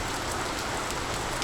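Heavy pre-monsoon rain pours down in Konkan near Kankavli in late May, a dense, steady roar of drops on surfaces, close and loud with no pauses.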